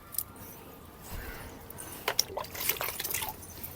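Liquid plant solution poured from a mug onto pomegranate, sapota and orange plants in a garden, heard as a few soft splashing trickles and drips, close and quiet, with no talk.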